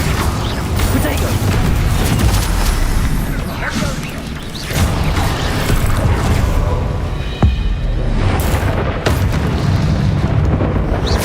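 Repeated Confringo explosion spells in Hogwarts Legacy combat, heavy booms and crashes in a constant loud din with a sharp impact near the end, with voices mixed into the chaotic battle.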